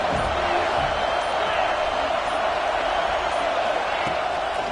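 A stadium crowd in a college football video game, in a matchup against UGA, gives a steady, loud, wash-like roar throughout, with commentary talking over it.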